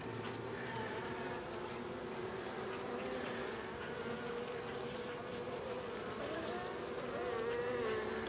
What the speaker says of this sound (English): Look how many bees are in here.